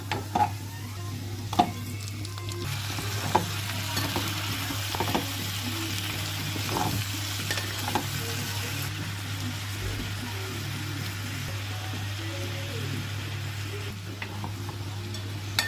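Butter and garlic sizzle steadily in a pan at moderate volume, with a utensil scraping and clinking against the pan at intervals as the mixture is stirred, over a constant low hum.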